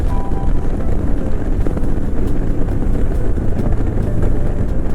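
A loud, steady engine drone with rough low rumble and wind buffeting continues throughout, from a modified Royal Enfield Himalayan 411 motorcycle with Decata, DNA and FuelX parts ridden at speed.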